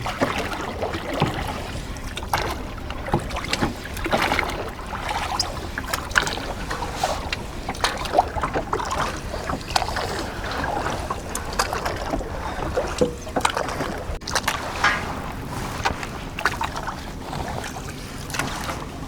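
A boat cruises on open water during an island boat trip in Purulia, giving a continuous rushing wash with heavy wind buffeting the microphone throughout.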